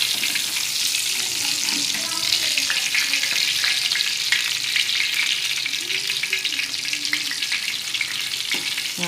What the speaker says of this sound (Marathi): तसेच स्लो गॅसवरती हे पण फ्राय करायचे